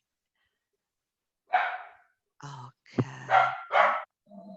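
A dog gives a few short barks and yips in separate bursts, close by, with a brief spoken word in between.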